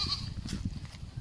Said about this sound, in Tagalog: nagtatawag na yung kambing